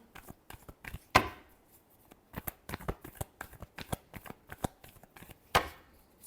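Tarot cards being shuffled by hand in a quiet room: a run of soft, papery riffles and taps with two sharper snaps, near and alone.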